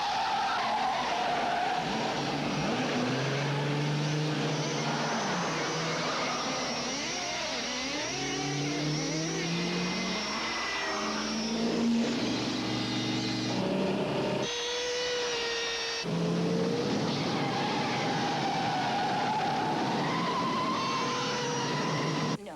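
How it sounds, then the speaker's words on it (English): Tires skid and squeal through a movie car chase in which a full-size car is pursued by a tiny model car packed with plastic explosives. Engines rev and whine under loud, continuous screeching, with swooping pitch changes and sharp cuts, and nobody speaks. "the famous car chase in Bullet is parodied when Harry's car is chased by a tiny model car that has plastic explosives inside."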